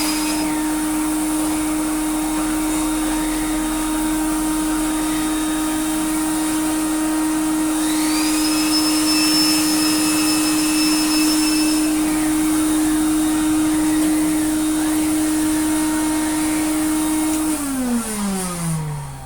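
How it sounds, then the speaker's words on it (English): A Eureka Forbes Euroclean 2000 vacuum cleaner fitted with a pneumatic air-driven brush runs steadily and loudly up close, with a strong humming motor whine. A rising whirr as the brush spins up joins it midway, and the motor pitch drops at the end. "We can use things like a pneumatic aero brush."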